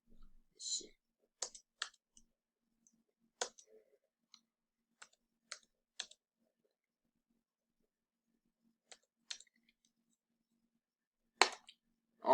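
Computer mouse clicks, set up as short, crisp, isolated taps and small double clicks at irregular intervals over a quiet background, close and fairly faint.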